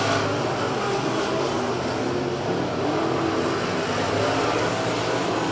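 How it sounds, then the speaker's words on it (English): Dirt modified race cars roar around the Ocean Speedway track during an August 2019 race, a loud continuous blend of engines at full throttle with no distinct pauses. "side-by-side battle between him and Andy Orbitello. He's trying to late break Andy."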